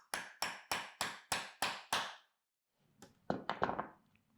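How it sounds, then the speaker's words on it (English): A hole punch hammered through vinyl: seven sharp, evenly spaced hammer strikes, then a pause and a quicker cluster of lighter taps and knocks. "Okay, I'm going to hammer"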